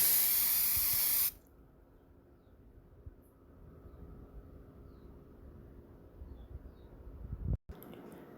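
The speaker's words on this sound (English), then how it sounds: "I'm just going to spray it with a little bit of cooking oil, some Pam cooking spray" A short burst of Pam cooking spray hisses loudly into a loaf pan, then cuts off, leaving a quiet room with faint knocks.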